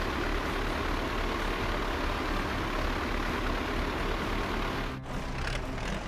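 Tractor engine running steadily in Farming Simulator 22 while spraying fertilizer in a field, a continuous loud low drone with a brief dip near the end.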